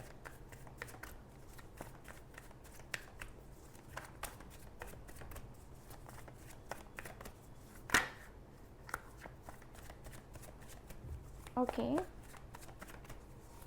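Tarot cards being shuffled by hand in a steady run of soft riffling flicks, with a louder slap partway through and a brief spoken word near the end.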